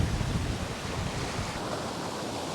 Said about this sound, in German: Am Nachmittag kommt mal richtig schöner Wind auf.